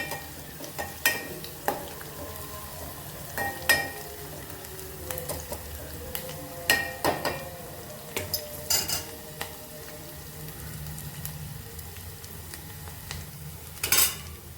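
Green chillies fry in oil in a pan in a home kitchen, with a spoon scraping and clinking against the pan in irregular bursts over a soft, steady sizzle, close by with no talking.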